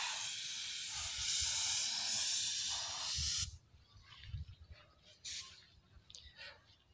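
A spray gun hisses steadily and loudly while lacquering a wooden table made of thnong wood. The spray cuts off abruptly after about three and a half seconds, leaving faint workshop rustles and brief bumps.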